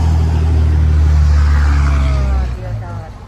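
A big truck revs loudly with a deep, sustained engine roar close by for a couple of seconds, then drops off and fades as it moves away.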